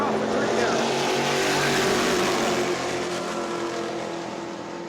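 Race cars at New Smyrna roar hard on a restart, their engines blending into one loud, dense, sustained howl. The sound is close and steady, then fades slightly toward the end.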